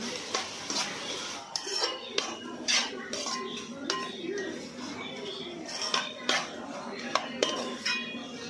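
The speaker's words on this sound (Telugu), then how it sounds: "ఇప్పుడు పుదీనా వేసుకుంటున్నాను. పుదీనా వేసేసుకొని మంచిగా తిప్పేసేస్తున్నాను." Utensil stirring mint into biryani in a metal pot, with scrapes and clinks of the spoon against the pot; someone talks over the stirring.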